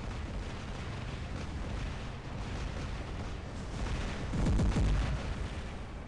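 Robot weapon fire in the War Robots video game, a Griffin shotgun battle: a dense, rumbling wash of gunfire and blasts throughout, with a heavier burst of booming shots near the end.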